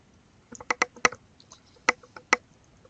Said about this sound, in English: Backspace to erase that.